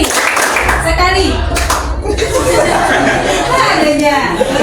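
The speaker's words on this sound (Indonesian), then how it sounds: "Tepuk sekali, tepuk dua kali, sekali." A group playing a clapping game claps in sharp bursts between chatter and children's laughter, with an adult's voice speaking over the noisy, close room sound.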